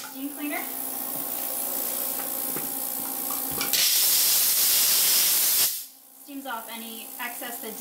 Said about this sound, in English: And then this is a vacuum cleaner.